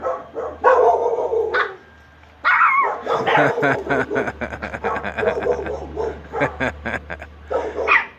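Miniature Pinscher and deer-head Chihuahua mix dogs bark in a close, loud, rapid series of sharp yaps, with a short pause before the barking picks up again.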